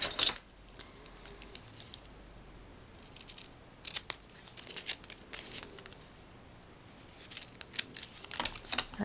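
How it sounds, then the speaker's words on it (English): Paper being torn and then trimmed with scissors while making a handmade Valentine's Day card, heard as short crisp bursts of ripping and snipping separated by quiet pauses, close and fairly soft, with no talking. "I can just rip it and then trim it"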